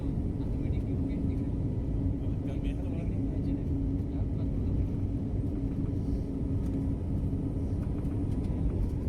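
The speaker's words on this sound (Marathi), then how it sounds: "भुवनेश्वर एअरपोर्टवरनं आपल्या विमानाने टेक ऑफ घेतलेला आहे" An airliner takes off from Bhubaneswar airport on a flight to Hyderabad, heard from inside the cabin as a steady, loud, low engine rumble that holds constant throughout.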